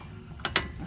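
A ratchet on a half-inch extension works at the front wheel bearing of a Chevy GMC 2500 truck, giving two quick, close metallic clicks over a quiet background.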